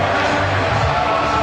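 A stadium crowd roars after Jesse Lingard's goal in a Real Madrid versus Manchester United match: a dense, loud, continuous roar with a voice talking over it.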